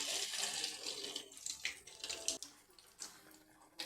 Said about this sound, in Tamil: எண்ணெயில் பொன்னிறமாக பொரித்து வைத்தால் கோதுமை பக்கோடா ரெடி.